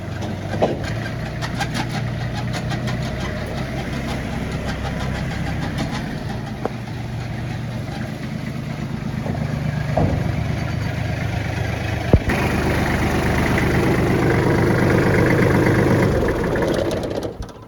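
An old Kubota L1-235 small tractor engine idles steadily close by, a low continuous chugging with occasional clicks and knocks, growing slightly rougher toward the end.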